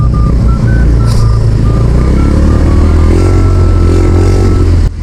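A Honda Click 125 V2 scooter's small engine revs hard with throttle, its drone rising and holding steady, loud and close, with a faint repeating electronic beep above it.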